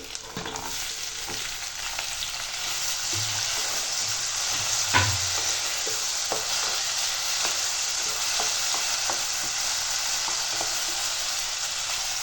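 Curry with tomatoes frying and being stirred in a pan for an eggplant dish, a steady close sizzle with scraping stirs throughout and one louder clatter near the middle.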